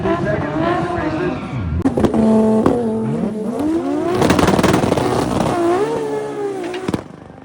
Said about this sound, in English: it's pretty loud, but we've got GTRs getting ready to go